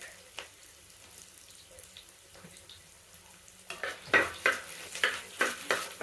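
Onion goes into hot coconut oil with popping fenugreek seeds for a Kerala fish-head curry; a quiet kitchen hiss gives way to a stronger sizzle with stirring scrapes and rhythmic bursts of frying.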